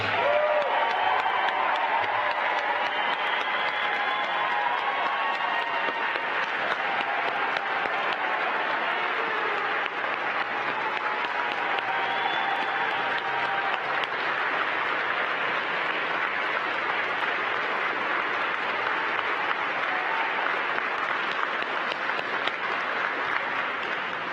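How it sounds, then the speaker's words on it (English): An audience applauds NASA's newly announced astronaut candidates at a formal event, with loud, dense, continuous clapping sustained for over twenty seconds and no talk over it. "Let's give them a big round of applause."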